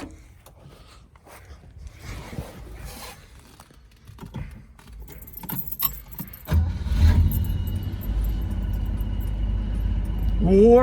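Keys jangle in the ignition of an unrestored Chevrolet car with a 250 six-cylinder engine, then the engine cranks and catches and settles into a loud, steady, close idle.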